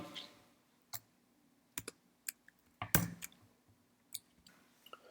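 Scattered single keystrokes click on a computer keyboard while HTML and CSS code is typed, each one crisp and close against near silence, with irregular gaps between presses.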